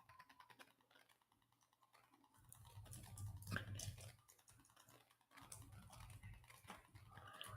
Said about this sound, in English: I'm typing this up